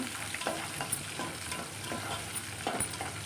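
Brinjals sit in plenty of hot oil, already tempered with mustard seeds, chana dal and onions, frying with a low steady sizzle and several soft stirring clicks, quiet and close with no talking.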